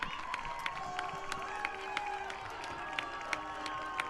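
A basketball crowd at a high school game between Sterling and Garden Plain cheers and murmurs throughout, with scattered sharp shoe squeaks and thumps, fairly faint and distant.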